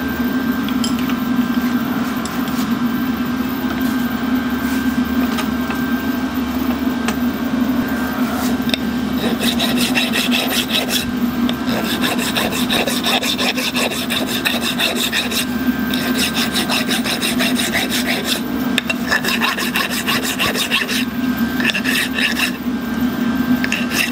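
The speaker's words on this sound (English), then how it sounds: "I'll clean the end of that up so I can screw it out." Steady rasping and rubbing as the threaded end of a steam engine valve part is cleaned up, a continuous scraping texture with a constant machine hum behind it.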